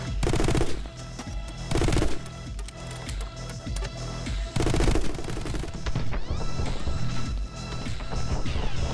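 A gun firing in a video game: rapid automatic shots in dense, loud bursts, heaviest near the start and middle, over a busy layer of game sound with no speech.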